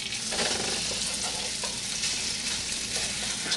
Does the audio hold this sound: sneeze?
no